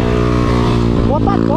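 A Honda Titan 160 motorcycle engine drones steadily at close range, loud and even, with a rise in pitch near the end, while someone talks over it.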